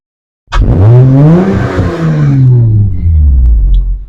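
An Acura TL with a mid muffler delete and Vibrant resonators revs up sharply from silence, its deep, loud exhaust note rising then settling into a sustained, throaty drone close by.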